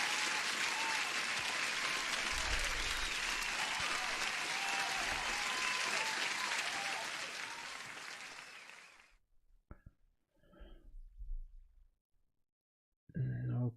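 Audience applause in a dense, steady wash for about nine seconds, then cutting off abruptly into near-silence broken by a few faint scattered sounds.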